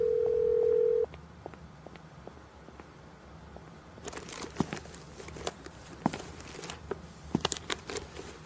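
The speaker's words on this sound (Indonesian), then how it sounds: "aku akan telepon pemiliknya sekarang" A telephone dial tone hums steadily for about a second, then cuts off, leaving soft crinkling and handling noises with scattered sharper clicks close by.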